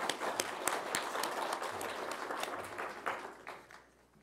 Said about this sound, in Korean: 감사의 박수 한번 치겠습니다